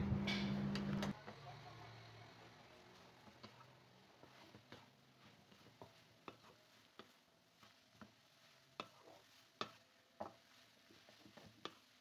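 Soy sauce and sweet soy sauce being stirred through noodles in a pan, a steady soft sizzle broken by repeated sharp scraping and tapping clicks from the utensil, close and clear with no talking.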